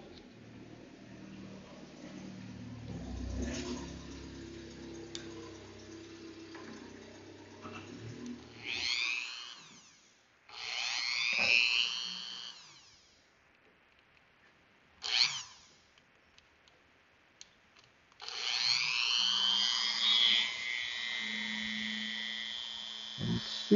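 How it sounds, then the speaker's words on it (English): A wire wheel scours oxidation from the wheel tread of an Athearn Blue Box model train, coming in several bursts of high, gritty whirring and scraping that start and stop, with quieter low noises between them. "work that wheel tread with the wire brush"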